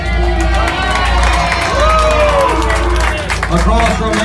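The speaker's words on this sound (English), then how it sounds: "Clap for him if you would." A crowd aboard a pirate ship at Panama City Beach, Florida claps and cheers steadily for several seconds, a loud mix of applause and babbling voices with some whoops rising over it.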